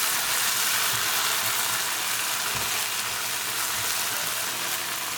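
Mushrooms, sweet mini peppers and tomatoes for a sabzi being mixed in a pan: a continuous, even frying hiss with faint, scattered stirring knocks underneath, no talking.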